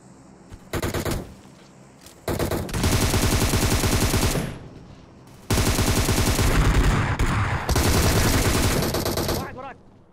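Gunfire from the mobile video game PUBG Mobile: loud, rapid automatic bursts, each lasting a couple of seconds, separated by short pauses.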